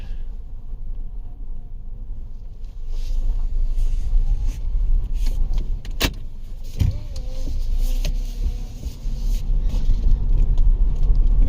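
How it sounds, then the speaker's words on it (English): A 2011 Nissan Rogue running rough while being driven gives a low, steady cabin rumble with occasional clicks and thumps, engine and road noise continuous with no talk. "Let's take this for a ride, see if this we get any changes here."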